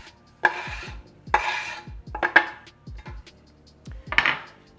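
Mushrooms dropped into an oiled pan while cooking a vegan BBQ pulled mushroom dish, several distinct clattering thuds and rattles in close succession, close and moderately loud, with no talking.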